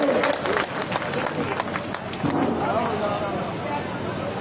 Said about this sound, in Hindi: तालियां बजाकर गुड़ा साहब का जोरदार अभिवादन करें